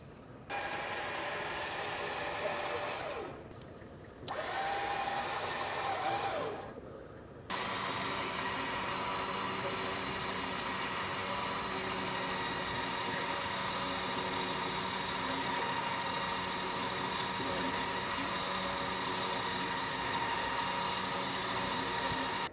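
A truck-mounted winch motor spools its line under tension with a steady, close electric whine and hum, stopping twice briefly early on and then running without a break.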